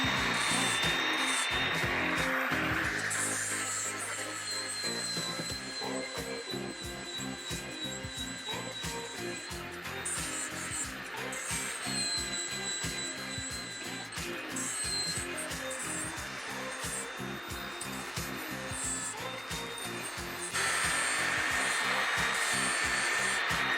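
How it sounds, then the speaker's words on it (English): A power tool grinds and rasps steadily while freehand chamfering the edge of a 1967 Mustang steering column, with short pauses and shifts in pitch and no speech. "And why am I chamfering the edge?"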